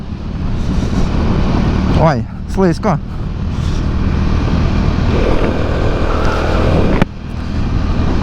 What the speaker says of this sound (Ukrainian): перші мої метри на цьому мотоциклі, перші кілометри